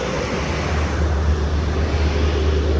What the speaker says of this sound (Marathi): आणि गाड्या आहेत सगळ्या.